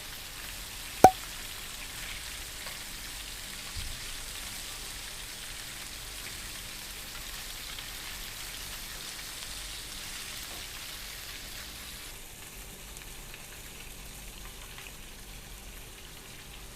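Salmon fillets sear lightly in a hot pan with a steady, soft, even sizzle that continues throughout. A single faint click stands out near the start.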